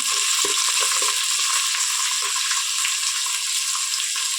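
Onion, curry leaves and green chili sauté in a hot pan for mushroom biryani, giving a steady, loud sizzle with a few soft stirring knocks early on, and no voices.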